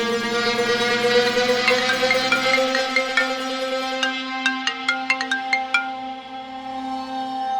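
A mobile phone ringtone plays alone as a loud, bright repeating melody with clear tonal notes, ending in a quick run of rising chimes.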